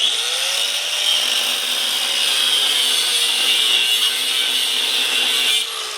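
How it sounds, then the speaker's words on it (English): A power saw cuts a slot through a steel rear suspension bracket on an old Chevy truck, giving a steady, loud, high whine for about six seconds that eases slightly at the end. "So I'm going to cut a slot."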